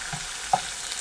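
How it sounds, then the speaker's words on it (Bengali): Tengra fish coated in spices frying in hot oil, a steady close hiss with a brief sharper pop near the middle. "মাছ দিয়েই মশলাগুলো দিয়ে ভালো করে একটু মাখাই নিব, ভাজা নিব এই তেলে মশলায়"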